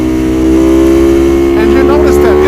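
A 2019 Ducati V4R motorcycle engine hums at high revs in a loud, close, steady tone that climbs slightly, with a voice faintly audible under it near the end.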